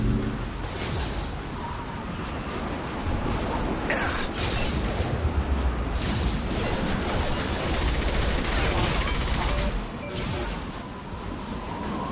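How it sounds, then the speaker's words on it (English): Gunfire in Mass Effect 2, a steady, dense clatter of shots and crashing impacts throughout a chaotic firefight, loud and continuous with a slight lull near the end. "Stop shooting me!"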